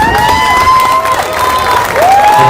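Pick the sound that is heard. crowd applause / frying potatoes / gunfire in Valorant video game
crowd applause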